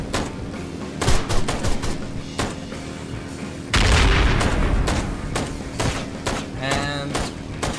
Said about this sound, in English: And people explode.